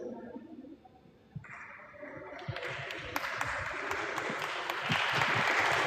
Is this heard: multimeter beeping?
no